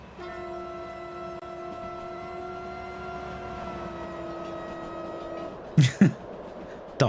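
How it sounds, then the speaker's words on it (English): A train passing in the Derail Valley railway simulator, a steady sustained horn-like tone that holds and slowly falls in pitch, then a few sharp thumps near the end. "Doppler effect."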